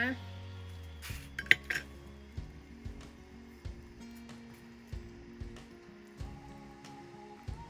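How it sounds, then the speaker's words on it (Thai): Boiled eggs drop into a carbon steel wok of braised pork leg in a home kitchen, giving repeated clinks and clatters of a utensil against metal, close and moderately loud, with a low steady hum underneath. "ได้เวลาใส่ไข่ต้มนะคะ เราก็ใส่ไข่ต้มลงไปเลย"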